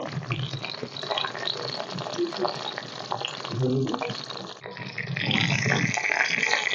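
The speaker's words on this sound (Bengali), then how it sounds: "অল্প আঁচে আমি ভালোভাবে এগুলোকে ভেজে নেব।" Rui fish pieces, prepared paturi style with leaves, fry gently in oil over low heat, making a steady soft sizzle and bubbling hiss that rises a little toward the end.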